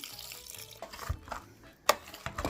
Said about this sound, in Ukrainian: мнемо картоплю товкачиком, додаємо вершкове масло та кип'ячене молочко